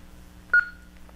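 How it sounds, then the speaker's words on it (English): A single short electronic power-on beep from a Kenwood TK-3230 two-way radio sounds against a low hum, followed by a fainter click or blip. "It should beep once and then list the first channel as well as the frequency it's set to"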